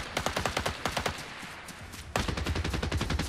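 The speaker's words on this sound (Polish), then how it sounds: "Tutaj 2 się strzelają." Rapid automatic gunfire between two players in Fortnite, fast repeated shots in dense bursts that grow louder and fuller partway through, with no talking.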